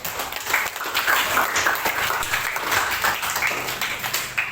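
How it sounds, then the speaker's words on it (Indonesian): A school class claps together in a steady, moderately loud burst of mixed handclaps that lasts the whole span, with no talking over it. "Ya, oke, tepuk tangan."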